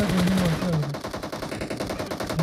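Rapid automatic gunfire from the PUBG video game rattles off in a dense, fast burst of repeated shots, loud and close, with a brief sustained tone at the start.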